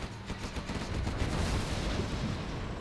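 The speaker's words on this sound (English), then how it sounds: "We have a Gatling cannon behind the flank here." A Gatling cannon fires in a China versus China match of Command & Conquer Generals, a dense, continuous rattle of rapid shots blending into rumbling battlefield noise.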